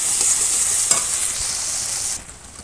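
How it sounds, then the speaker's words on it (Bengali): Spice paste sizzles in hot oil as it is stirred in a village kitchen over a wood fire, a loud steady frying hiss with a few scraping stir strokes, then dropping off sharply near the end. "মশলাটা কষাবো।"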